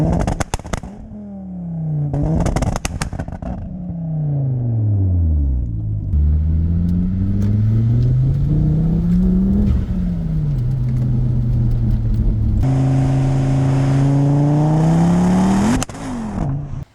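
A turbocharged Ford XR5 drives and accelerates, engine note rising and falling through repeated gear pulls, loud and close from start to finish with brief gaps between shifts and no talking.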